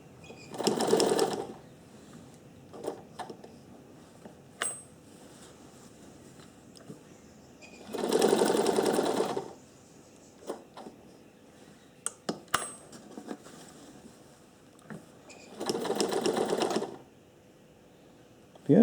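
An old sewing machine with a repaired thread tensioner runs in three short bursts of about a second and a half each, separated by quiet pauses filled with small clicks and handling sounds.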